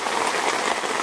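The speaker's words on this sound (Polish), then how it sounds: "Zaczęło sobie padać." Rain falling steadily at a lakeside campsite in Masuria, a dense, even patter across the whole moment with no voices.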